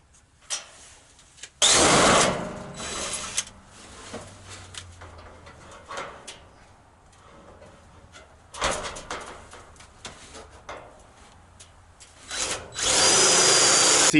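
A power drill drives screws into a solar hot water panel mount in three loud, close bursts, the first and last lasting a couple of seconds, with quieter handling clatter between them.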